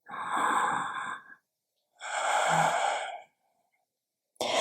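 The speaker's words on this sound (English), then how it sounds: "Breathing here." Two long, slow breaths drawn and released during a gentle somatic yoga flow, each about a second and a half with a pause between, close and clear, a third beginning at the end, no talking.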